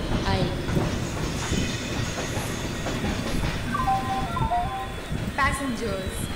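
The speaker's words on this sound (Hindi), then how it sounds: "शताब्दी सुपरफास्ट एक्सप्रेस प्लेटफॉर्म नंबर 6 पर आएगी" A Shatabdi Express hauled by a WDP-4D diesel locomotive arrives on the Howrah–Mumbai Central route, giving a loud steady rail rumble with wheel squeals and a horn-like tone, while a platform announcement plays over it.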